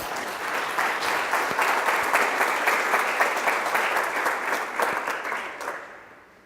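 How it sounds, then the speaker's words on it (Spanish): A church congregation applauds during a worship service, dense sustained clapping holding steady for several seconds before fading out at the end. "porque no dan un aplauso al Señor"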